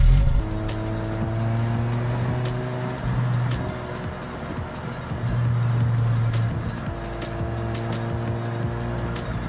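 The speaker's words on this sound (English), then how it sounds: "That rotary engine is kind of a trip. It doesn't necessarily idle perfectly all the time, but it runs pretty dang good." A JDM car's rotary engine runs steadily, a buzzy low hum with slightly uneven tones that waver and shift in pitch, heard close and continuous with brief dips in level.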